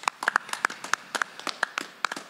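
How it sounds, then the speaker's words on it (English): A small scattering of claps for nursing and social work graduates at a university spring commencement, about a dozen sharp, separate hand claps in an uneven rhythm, close and dry with quiet gaps between them. "Let's all give them a big hand of applause."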